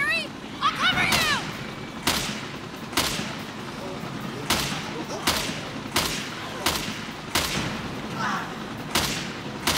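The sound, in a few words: gunfire from shooting in video game Resident Evil Revelations 2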